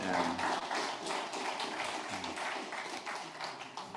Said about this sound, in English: A round of applause for these ladies.